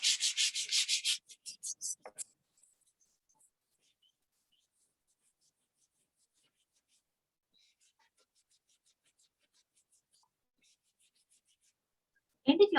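Fine grit sandpaper rubbing over a wooden sign, a quick series of close, soft scratchy strokes at the start that then die away into near silence, with a brief rustle at the very end.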